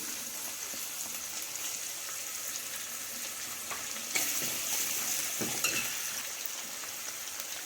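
Onions fry in a pan as a soup base, making a steady, moderate sizzle with a few brief clinks and stirring scrapes.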